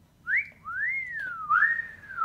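A person whistles a short, sliding melodic phrase, three gliding notes rising and falling, close and clear against a quiet background.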